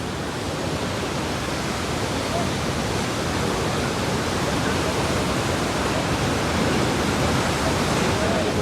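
Loud, steady rushing water from a river at Vasudhara waterfall, a dense unbroken roar, close by and without pauses.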